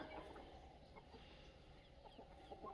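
Desi free-range chickens cluck softly on a poultry farm, a few quiet, scattered clucks spread over low outdoor background noise, with a sharper sound right at the end.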